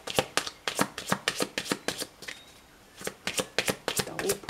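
A deck of tarot cards is shuffled in quick bursts of crisp riffling and slapping, with a brief pause midway before the shuffling starts again, close and fairly loud.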